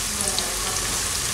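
Onions browning in a pan for beef bourguignon, a dense steady hiss of frying close by with no clear breaks, brief and without voices.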